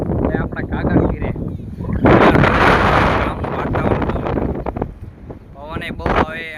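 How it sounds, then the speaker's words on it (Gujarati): Strong wind buffeting a microphone outdoors in a village, a broad rushing roar that surges loudest midway, with people talking intermittently over it. "પવન બહુ આવે"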